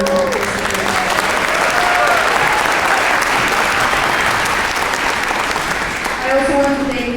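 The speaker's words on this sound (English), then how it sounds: "If you guys can hold your applause for a little bit" An audience at a school production of the musical Newsies Jr. applauds: loud, dense clapping runs continuously from start to finish, with a few voices faintly audible within it.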